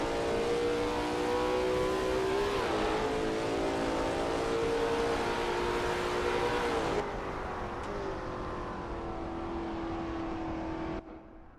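A Lola T70 MkII Spyder race car's engine drones loud and continuous around Watkins Glen in a racing game, pitch climbing then dropping through a gear change and settling into a lower steady whine.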